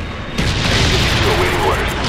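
B-52 airstrike explosions in Call of Duty: Black Ops on the Berlin Wall map, heard as a sudden heavy boom that swells into a sustained rumbling roar of blasts, loud and close, with voices under the din.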